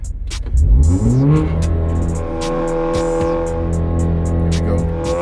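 A 440 hp Audi A3 engine revs up sharply and roars as it launches, then settles into a steady loud drone, with clicking and rattling noises overhead.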